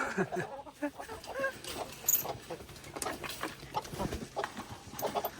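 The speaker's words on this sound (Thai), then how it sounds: "ไก่ไก่" Chickens in a backyard coop, soft scattered clucks and short calls at close range, faint and irregular, with a little quiet speech nearby.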